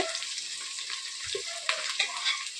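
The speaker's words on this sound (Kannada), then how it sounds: "ಒಂಥರ ಬರೀ ಈರುಳ್ಳಿ ಫ್ರೈ ಆಗ್ತಾ ಇದ್ರೇ ಒಂಥರ ಘಮ ಘಮ ಘಮ ಅಂತ ಇರುತ್ತೆ ಎಣ್ಣೆಲಿ ಫ್ರೈ ಆದರೆ ಈರುಳ್ಳಿ" Onions fry in oil for a mushroom biryani, producing a soft, even sizzle up close with a couple of light stirring knocks.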